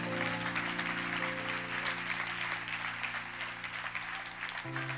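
A church congregation applauds in a sustained, even burst of clapping, with a low sustained tone from music or an organ underneath.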